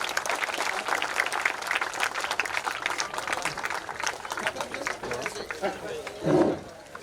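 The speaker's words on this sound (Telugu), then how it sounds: "వేదిక మీద చప్పట్లు కొట్టండి అమ్మా" Applause from an audience at a TRS senior leader's birthday celebration stage, steady clapping throughout with crowd noise and a brief louder burst near the end.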